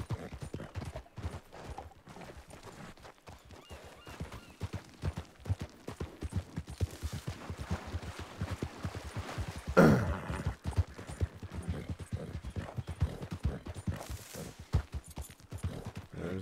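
Horse hooves clip-clop in a steady, close rhythm as a rider travels through Red Dead Redemption, with one brief louder burst partway through.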